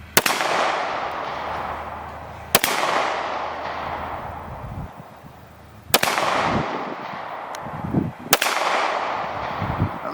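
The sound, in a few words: Smith & Wesson M&P M2.0 Metal pistol gunshots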